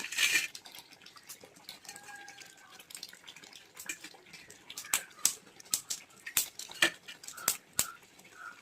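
Mustard seeds crackle and pop in hot oil for tempering a Kerala tapioca and goat-head curry. Sparse sharp pops early give way to a denser burst of loud, irregular snaps, with no talking.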